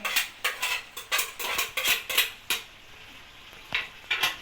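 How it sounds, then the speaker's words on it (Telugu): Spoon scraping and clinking against a pot while stirring chicken curry with tomato, about a dozen rhythmic metallic strokes, close and clear, pausing briefly before a few more. "ఇప్పుడు బాగా కలుపుకోవాలి"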